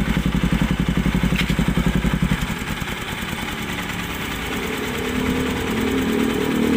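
A Honda NS200 motorcycle running on EGB oil idles close by, starting with a rapid regular pulsing throb that then settles into a smoother, steadier hum.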